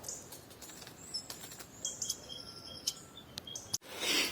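Several songbirds chirp and whistle outdoors, their short high notes coming in bursts over steady background noise, with a louder rustle near the end.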